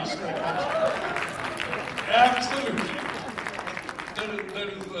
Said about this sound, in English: There is a lot of applause on that particular answer.